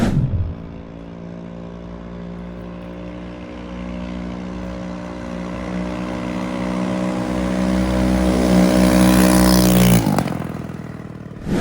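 A scooter with a GY6 engine accelerates during a speed test after a gear swap, its engine note climbing steadily for about ten seconds before cutting off abruptly.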